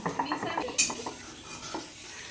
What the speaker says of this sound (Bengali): আমাকে রান্নার জন্য মশলা বেটে দিচ্ছে